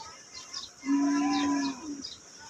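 A single loud, sustained low moo from a Jafarabadi buffalo at a livestock market, nearly a second long, rising out of a quiet background.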